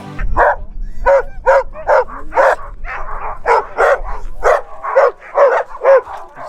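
Sled dogs stopped on a raid trip toward Norway bark impatiently in a rapid, uneven series of sharp, close barks and yips, some overlapping.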